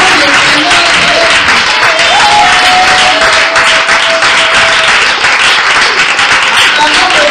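Congregation at an evangelical church service applauding loudly and steadily throughout, a dense wash of clapping with voices calling out over it.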